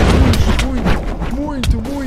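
Gunshot blasts from a One Piece battle video game crack out a couple of times under a man's fast, excited talking, which dominates throughout.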